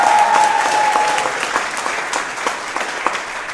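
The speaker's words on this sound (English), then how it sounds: "Give him a round of applause." Audience applause for a 7-year-old boy at a mayoral campaign event, a dense round of clapping that starts loud and gradually thins, with a brief whoop near the start.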